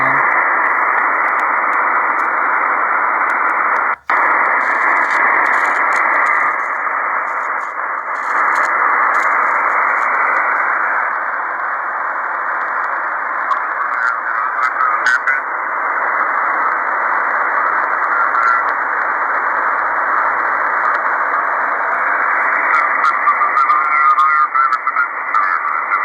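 Radio signal received on an MLA 30+ active magnetic loop antenna: a continuous band-limited hiss with a faint, not fully tuned signal inside it, loud and steady for the whole stretch with one sharp click early on.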